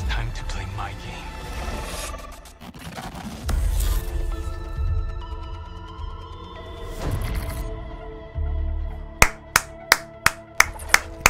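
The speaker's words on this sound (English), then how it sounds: "Can't help but clap at these now" A voice and music play first, then a short burst of about six sharp, evenly spaced hand claps rings out near the end.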